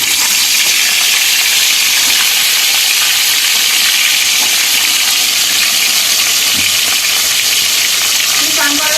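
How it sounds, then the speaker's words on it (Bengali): Rohu and loitta fish frying in hot oil make a loud, steady, close sizzle with a dense hiss that runs unbroken throughout. No one speaks. "তো তেল গরম হয়ে গেছে এবার মাছগুলোকে দিয়ে তেলে"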